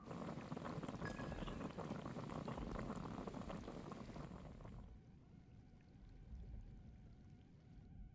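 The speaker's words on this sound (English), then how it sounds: "I'll boil some water." Water boiling in the video game Genshin Impact makes a steady bubbling, rushing wash that fades noticeably partway through, then settles into a quieter, softer bubbling.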